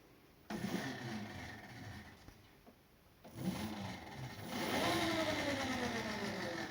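An electric scooter motor whines as its throttle handle is twisted, bursting on abruptly, cutting out, then returning and rising in pitch as it accelerates, with the scooter rubbing against a wooden dresser.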